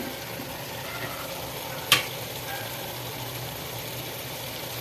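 Masala spices, turmeric, coriander powder, chilli powder, Kashmiri chilli and garam masala, sautéed in oil for soya dum biryani give a steady low sizzle with one sharp scrape of the spoon near the middle.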